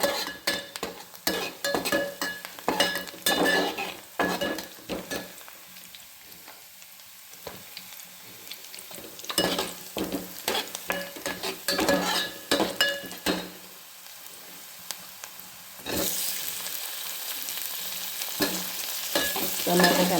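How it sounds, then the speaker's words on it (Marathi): Onions, eggplant and potato fry with curry leaves in a pan for eggplant curry, the sizzling broken by repeated stirring scrapes and clinks of a utensil. "वांगी बटाटा कांदा टाकलेला आहे, कढीपत्ता टाकला आहे, टमाटा आहे, कांदा होतोय"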